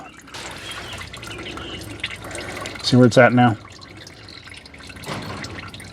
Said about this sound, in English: So I'm just going to let this oil drip.